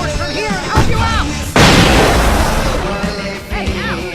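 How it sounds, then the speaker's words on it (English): Fireworks going off in the Alan Wake video game at a concert stage during a fight: loud booming bursts and crackling blasts, one big explosion in the middle, mixed with shouting voices and game sounds. "I can set off more of the fireworks from here and help you out!"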